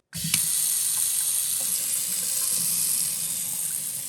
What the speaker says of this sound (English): we're gonna run some water through it and make sure it still works